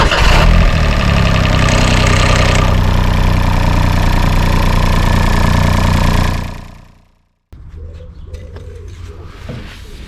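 A 2008 Smart Fortwo Passion 451 with an 84 bhp engine runs loud and steady for about six seconds, then cuts off abruptly before a quieter idle resumes.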